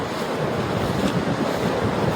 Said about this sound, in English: waves crashed against the shore